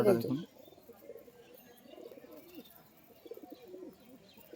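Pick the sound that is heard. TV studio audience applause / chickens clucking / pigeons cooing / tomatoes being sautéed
pigeons cooing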